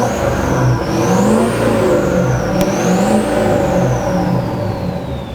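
A truck engine fitted with a Banks powered turbo revs twice in a tow rig, the deep motor swelling under a high turbo whine that rises and falls with each rev, loud and close.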